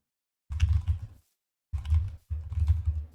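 Computer keyboard typing in three close, fairly loud bursts of rapid key clacks separated by short pauses, with no voice over it.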